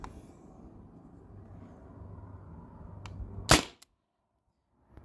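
T4E TR68 HDR68 CO2-powered marker firing a single heavy round, one sharp close crack after a stretch of low background hiss, followed by a brief faint click and then silence.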